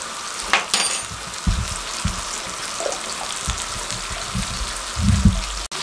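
Biryani masala sizzles and fries in a pan over a medium flame, a steady crackling hiss with occasional stirring scrapes and louder bursts, close and alone.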